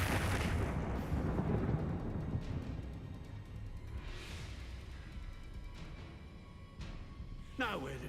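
An Expelliarmus spell bursts during a Hogwarts Legacy wizard duel, a booming blast up front followed by quieter magical whooshes and sharp crackles, with a voice speaking over the game sounds.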